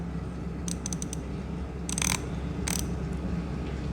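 A coffee grinder from a Kinto Faro dripper set is adjusted toward a coarser grind, giving a few short, sharp mechanical clicks and ratcheting ticks in a quiet room.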